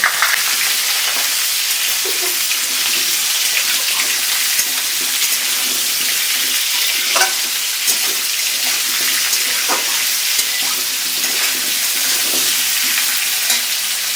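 Vegetables tossed into a hot pan for Gobindobhog rice khichuri, frying with a steady, dense sizzle and occasional stirring clicks, close and continuous with no talking.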